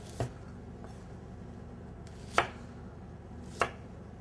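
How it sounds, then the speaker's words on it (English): Knife strokes cut pear halves into wedges on a board: three separate, crisp chops spaced about a second or more apart, fairly quiet in a still room with no talking. "So I'm just going to cut each half into 4 wedges."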